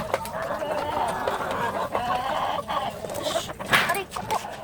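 A flock of chickens being fed clucks continuously and close up, with overlapping calls and scattered louder squawks.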